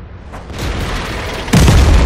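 An M44 self-propelled gun fires in World of Tanks on the Erlenberg map, a deep loud boom that swells and ends in a sharp, heavy blast.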